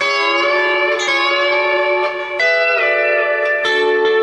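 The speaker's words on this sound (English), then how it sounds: "Then I'm doing what I call my windshield wiper roller." Lap steel guitar played with a bar using a rolling, windshield-wiper style technique, sustained harmonic-rich notes shifting pitch in several distinct moves with reverb, loud and alone.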